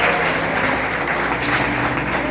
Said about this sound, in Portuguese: A igreja aplaude e glorifica o Senhor